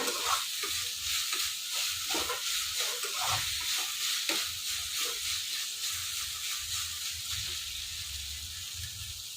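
Chopped vegetables for veg fried rice frying in a hot pan, a steady bright sizzle under repeated scraping stirs of a spatula, close and even throughout with no talking.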